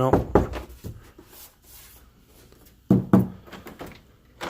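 An interior house door being swung open and shut, giving a few distinct knocks and thuds near the start and again a few seconds later, close and fairly loud, with quiet room sound between.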